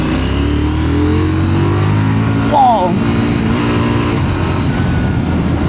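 A KTM 990 Duke motorcycle from 2026 pulls hard to overtake, its engine note steady and loud up close under wind rush, and the rider gives a brief exclamation partway through.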